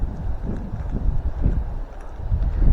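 Gusty wind buffets the microphone beside a fishing pond in fall, a low, uneven rumble that swells and dips throughout.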